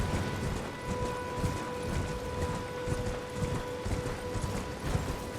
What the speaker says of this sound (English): Back on the horse.